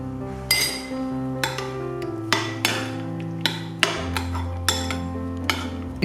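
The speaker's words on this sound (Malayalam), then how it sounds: "അതുപോലെ അരിഞ്ഞു വെച്ച ഇഞ്ചിയും തേങ്ങ അരച്ചു വെച്ചതും കൂടി ചേർത്ത് ഉപ്പിട്ട് യോജിപ്പിക്കാം." Chopped ginger, ground coconut and salt being mixed in a bowl, with a string of sharp metallic clinks ringing out roughly every half second to second as a spoon strikes the dish, close and clear with no talking.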